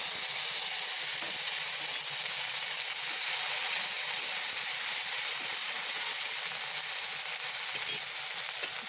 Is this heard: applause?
no